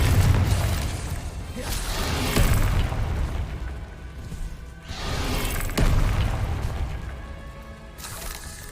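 Repeated explosive Confringo spell blasts in Hogwarts Legacy boom amid continuous combat noise, several loud bursts a few seconds apart over a busy rumbling background.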